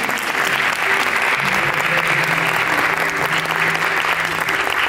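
A concert audience at a Turkish classical music performance claps loudly and continuously, the applause close and sustained, with faint tones and voices underneath.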